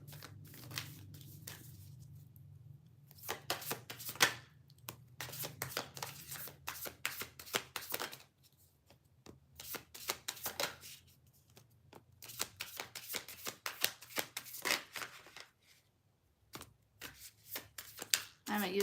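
Several bursts of a deck of playing cards being riffle-shuffled, with quick crisp fluttering riffles separated by short pauses. The sound is close and moderately loud.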